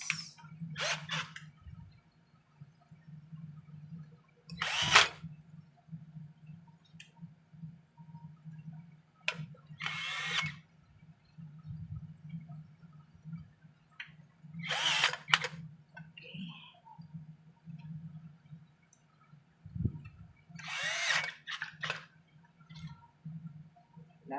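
Power drill driving screws, with several brief high whirring bursts spaced a few seconds apart over a steady low hum, fairly close.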